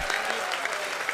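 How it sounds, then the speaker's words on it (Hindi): Dense, loud applause from a crowd at a Jain monk's sermon, heard as a brief burst of continuous clapping. "समर्थन में एक बार जोरदार ताली बजा दो।"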